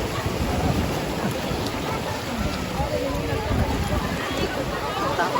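Big waves pound a beach, heard as a steady, loud roar of surf mixed with heavy wind buffeting the microphone throughout, with no clear talk on top.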